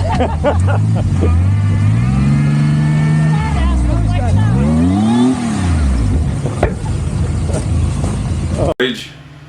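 A supercharged off-road vehicle revs hard in deep snow in Wyoming, its engine swinging up and down through several loud, close throttle blips, with a voice talking over it and a sharp cutoff near the end.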